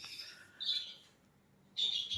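A white-rumped shama, or murai batu, kept as a cage bird, gives two bright, high whistled chirps close by, the first after a softer warbling start, separated by a short quiet gap.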